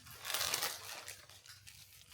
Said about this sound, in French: Avec le petit papier bulle avec des cœurs